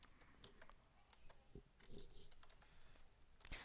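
Numbers being typed on a computer keyboard, a quiet run of light, irregular key clicks with a few sharper taps near the end, set against a low background hum.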